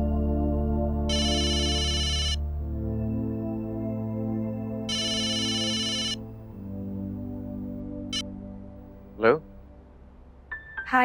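A phone rings in two long electronic bursts separated by a pause, over a sustained musical drone, followed by brief chirps and swooping tones.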